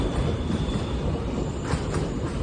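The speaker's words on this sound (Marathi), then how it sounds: "मालगाडी मालगाडी" A freight train rumbles past close by, with heavy rolling wheel noise, faint metallic squeal and rhythmic clatter continuing throughout.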